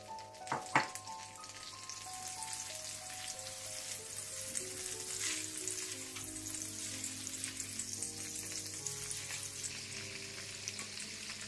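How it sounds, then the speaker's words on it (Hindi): Butter heats in a pan for aloo samosa filling, a soft continuous sizzle and crackle with a few clinks of a utensil early on, close and steady, no talking. "इसके बाद आप मक्खन गर्म कर लें।"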